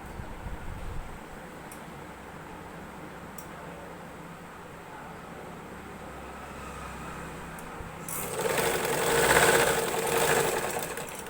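A sewing machine stitches nightie fabric into a crop top: a steady low motor hum drones under the first eight seconds, then a louder, brighter run of stitching surges near the end.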